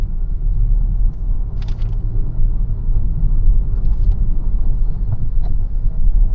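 Low, steady three-cylinder engine rumble inside a moving Kia Syros in 5th gear, a droning hum with road noise and a few faint rattles, no one speaking.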